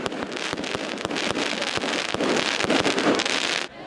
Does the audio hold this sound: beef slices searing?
no